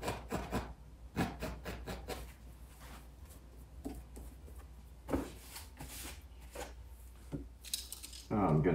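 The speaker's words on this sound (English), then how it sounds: "I'm gonna go ahead and just scrape in a nice little tree trunk." A painting knife scrapes oil paint onto canvas to form a tree trunk, giving soft, quiet rubbing and scratching strokes in short irregular bursts, with a few sharper taps and a louder rasp at the end.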